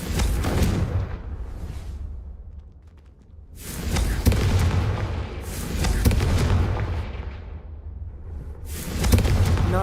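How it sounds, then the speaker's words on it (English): A Confringo fire spell from Hogwarts Legacy bursts in a run of loud, booming fiery blasts that roll and swell, fade briefly, then surge again in repeated heavy waves. "Confringo cast travels a bit farther than that of a spell like Incendio."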